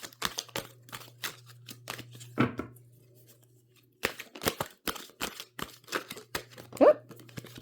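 Repeated crisp riffling and slapping of tarot cards being shuffled, in quick bursts separated by a short pause, close and fairly quiet.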